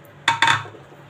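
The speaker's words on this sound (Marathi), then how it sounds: "आता आपण इथे कुकर घेऊया।" A pressure cooker is handled with two quick, close metallic clanks in rapid succession, followed by a brief ringing tail and quiet.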